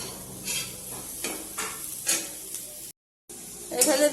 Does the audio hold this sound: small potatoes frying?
yes